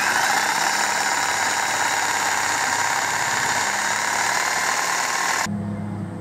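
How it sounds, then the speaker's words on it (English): A reciprocating saw cuts 2x4 rails off a broken wooden fence post with a loud, steady buzzing drone that stops abruptly just before the end. "sawzall the 2x4s off the broken post"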